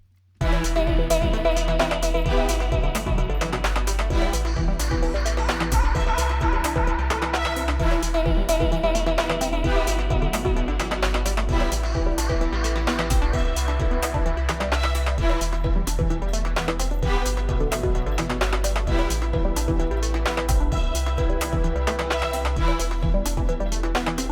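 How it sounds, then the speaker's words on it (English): An energetic 130 BPM breakbeat electronic track with a driving broken drum beat, heavy bass and layered synths plays loud and continuous throughout. "So this is a 130 BPM breaks tune and nobody has actually heard this"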